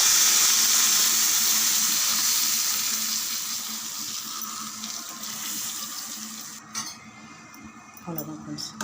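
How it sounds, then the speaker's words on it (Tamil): Mango rasam bubbles and sizzles loudly in a pot on the stove in a close, steady hiss that fades over several seconds, then gives way to light clinks of utensils and a brief voice. "கொதிக்குது இல்லையா ரசம்"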